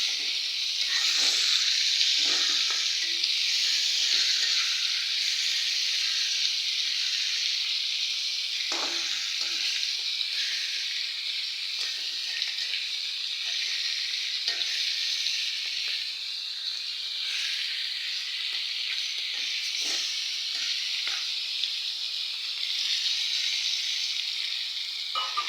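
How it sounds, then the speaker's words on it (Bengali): Fish frying in a pan gives a steady, bright sizzle that runs continuously, with occasional soft pops and stirring sounds, close and alone with no talking. "এই যে মাছটা বসাই দিচ্ছি ভাজতে"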